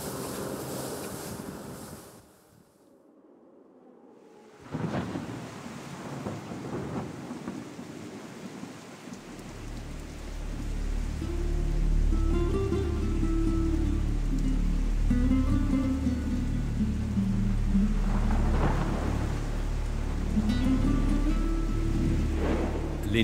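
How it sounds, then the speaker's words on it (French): A mountain thunderstorm in the Corsican hinterland, with heavy rain pouring down and deep, rolling thunder rumbling loudly and at length after a brief quiet gap, wind gusting through. "Les nuages peuvent s'accrocher aux montagnes et provoquer des orages. Ce jour-là, des trombes d'eau s'abattent sur l'arrière-pays"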